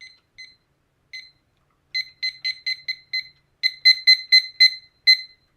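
A timer alarm going off in clusters of high, electronic beeps, sparse at first and then in quick bursts of four or five, close and clean with nothing else audible.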